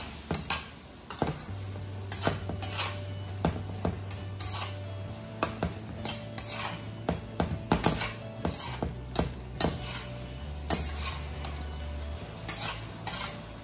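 Pork cooking broth and chili paste are stirred together in a pan for twice cooked pork, with repeated sharp scrapes and clinks of a utensil against the pan in an uneven rhythm over a low background hum.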